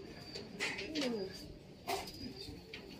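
Cooing of a racing pigeon arriving at the loft in a race from Unisan, Quezon, two soft moderately near coos over faint outdoor background and brief fluttery noise.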